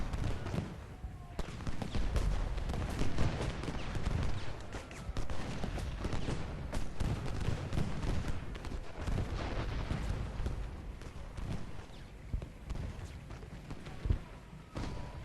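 Rifle and artillery fire from a Gettysburg battle in the strategy game Ultimate General: Gettysburg keep up a thick, ongoing rumble of crackling shots and heavy thumps, with an occasional louder boom near the end.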